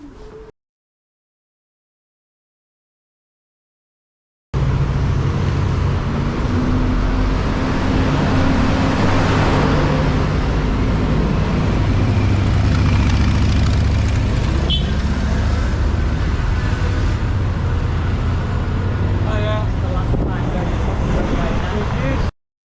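Vehicles cross the Gibraltar airport runway, producing a steady, loud rumble of engines and tyres that sets in after a few seconds of silence and carries on to the end.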